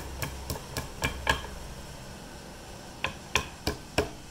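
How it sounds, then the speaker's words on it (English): A hammer taps on a metal axle shaft seal of a Ford Super Duty truck in quick bursts of sharp clicks, a short pause, then a few more spaced taps, fairly close and crisp. "you're going to grab a hammer and bend this over a little. And you just tap it on."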